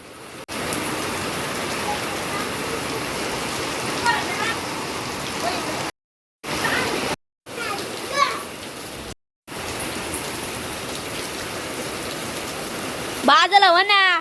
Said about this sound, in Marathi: अख्ख्या घरावरती पाऊस आलाय.